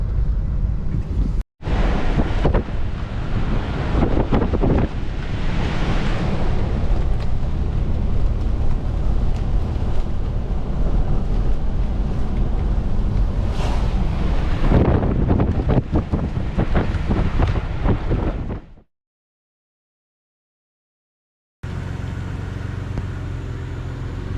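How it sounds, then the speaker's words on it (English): Continuous heavy roar of rough high-tide surf and wind, with surging crashes of waves breaking over a harbor wall, then a sudden cut to silence before the roar returns. "Rough ocean, high tide, busting over the wall right here."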